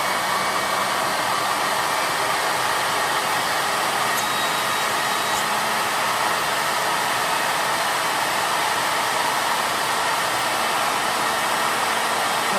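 A steady, loud roar of rushing air from a two-stage bladeless turbo blows continuously, a broad hiss like a jet engine or powerful blower running without pause.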